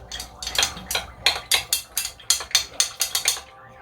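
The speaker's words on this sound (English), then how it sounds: "We're stirring that, and we're pre-stirring it because if you try and do it inside of your tumbler, you're gonna get frozen honey" A spoon stirs a honey mixture in a glass or cup, giving a quick run of about a dozen sharp, close clinks in a steady rhythm, with no voices.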